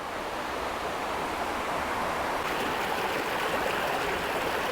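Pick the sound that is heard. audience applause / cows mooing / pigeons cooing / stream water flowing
stream water flowing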